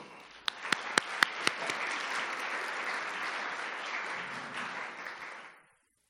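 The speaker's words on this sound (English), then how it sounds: "please join me with a round of applause to welcome the speakers" A crowd breaks into applause welcoming speakers at a talk, a few sharp claps swelling into steady clapping for several seconds before stopping abruptly.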